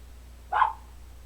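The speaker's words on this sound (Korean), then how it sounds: "어떤 개든 짖을 수 있어." A single short dog bark, fairly close and alone against a quiet background.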